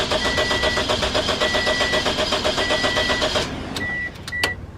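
A 2006 Pontiac Vibe with a suspected bad fuel pump cranks steadily with a rapid, rhythmic whirring churn but does not catch, then the cranking cuts off, leaving a couple of brief chimes.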